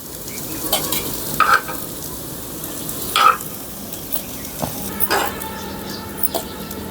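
Kuzhi paniyaram fry in oil in a paniyaram pan during rooftop cooking, a steady sizzle broken by a few sharp metallic clinks and scrapes from turning the dumplings.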